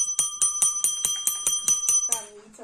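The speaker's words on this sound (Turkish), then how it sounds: "Bu sefer zil Yağmur için çalıyor." A bell rings in a family quiz game, about nine quick bright rings in steady succession, loud and close, ending in a short decaying ring.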